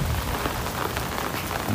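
Steady rain pours down during a typhoon, a continuous broadband hiss of drops hitting surfaces throughout, fairly close and even, with no speech.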